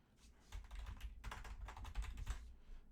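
Fingers type steadily on a computer keyboard, producing a quiet, close run of irregular clicking keystrokes with brief pauses between bursts.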